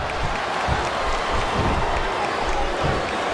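A virtual arena crowd in the wrestling game WWE SmackDown vs Raw 2008 roars and claps in a steady, dense wash of noise, with a commentator's voice faintly present.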